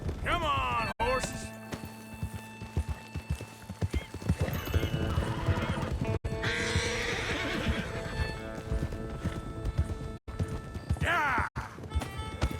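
Horses in Red Dead Redemption 2, including a Mustang, give several loud, shrill whinnies and neighs over busy clip-clopping hooves, with a voice speaking in between.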